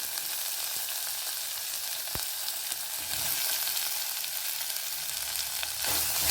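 Chopped onions fry loudly with mustard seeds, cumin, fresh ginger and garlic, giving a dense, constant crackling sizzle close by, with a couple of sharp spatula taps; nobody speaks.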